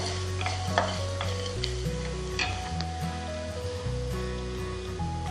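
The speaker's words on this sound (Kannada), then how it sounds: "ಜೊತೆಗೆ ಚಕ್ಕೆ ಮತ್ತು 2 ಲವಂಗ ತಗೊಂಡಿದ್ದೀನಿ. ಇದನ್ನು ಹುರ್ಕೋಬೇಕು." Cinnamon and cloves roast in a pan, giving a soft, continuous sizzle with faint scraping as they are stirred, heard alone under steady background music.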